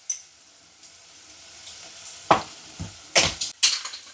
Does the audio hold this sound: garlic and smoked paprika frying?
yes